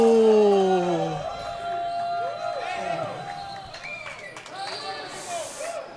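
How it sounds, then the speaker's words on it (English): Crowd cheers and roars at a semifinal pickleball match after a drive serve, loud at first and then sustained as a broad, excited din with overlapping commentator voices. "And the crowd goes wild"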